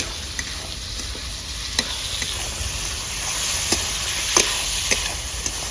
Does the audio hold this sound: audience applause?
no